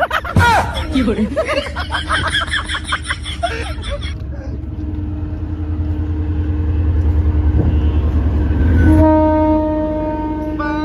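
A passing train rumbles and clatters steadily, then sounds a loud, sustained multi-tone horn near the end, with voices heard early on.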